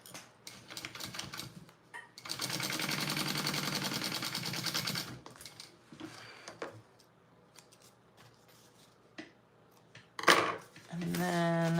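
A sewing machine bastes slippery fabric, folded over for a Roadie bag project, in a steady run of rapid stitching lasting about three seconds. Shorter bursts and handling clatter follow, with a person talking between them.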